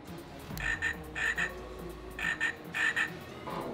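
A frog keychain toy croaks in four quick double bursts, an electronic ribbit repeated close to the microphone, with a low hum underneath.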